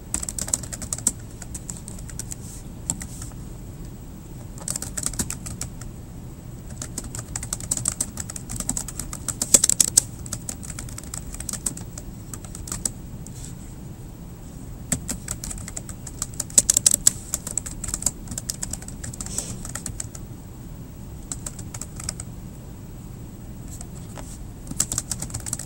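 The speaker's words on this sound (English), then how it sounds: "So I'm going to just type my question." Typing on a computer keyboard to enter a question into a text box, a steady run of close, light key clicks in uneven bursts over about twenty-five seconds, with no voices.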